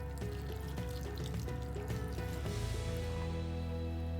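Water poured into a pan holding fresh strained lemon juice and black pepper, a steady, close liquid pour over a bed of background music.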